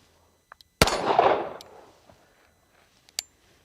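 A pistol firing one sharp, loud gunshot after a malfunction is cleared, with a long decaying ring, preceded by faint clicks of the slide and followed by a later sharp knock.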